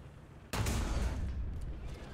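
A single heavy cannon shot from an M103 tank in the War Thunder video game booms out suddenly, followed by a rumbling tail that slowly fades.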